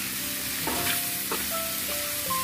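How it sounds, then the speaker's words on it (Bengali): Carrot fries in a pan with a constant, fairly loud sizzle and a few soft stirring scrapes, with no talking. "ততক্ষণে এইটা গাজরটা আমার ভাজা ভাজা হয়ে এসছে।"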